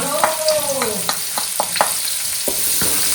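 Sliced onions hit a hot pan for idli sambar, a steady broadband sizzle with scraping stir strokes at a regular rhythm, close and fairly loud, with no talking.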